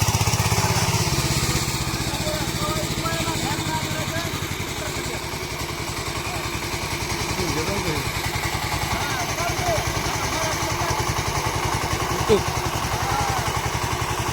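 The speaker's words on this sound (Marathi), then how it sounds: "चला दाखवतो डायरेक्ट चालू झालं ट्रॅक्टर" A heavy tractor runs in a sugarcane field while furrows are being cut, with a learner at the wheel. Its engine gives a steady low, throbbing chug that carries on throughout at an even level.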